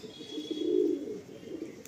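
A Madrasi pigeon coos once in a low, soft, rolling phrase that swells and fades over about a second, close by and alone against faint background hiss.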